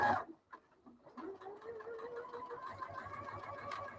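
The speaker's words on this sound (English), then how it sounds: "I'm sewing the 2 pieces together" A sewing machine stitching two fabric pieces of a summer sheet together, starting after a couple of faint clicks into a steady, quiet mechanical whir with a rising motor tone, close and continuous without talk.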